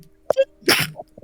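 A single sharp sneeze bursts out close by, followed by a short breathy tail, with a brief voice fragment just before and quiet murmurs after.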